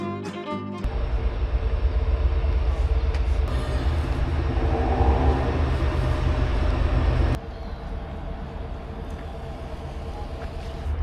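A rural Hokkaido train rumbles steadily along the rails from inside a carriage, with a constant low roar and a sudden shift in the noise partway through.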